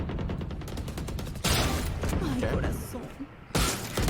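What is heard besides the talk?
Marshal sniper rifle no-scope shots in video game Valorant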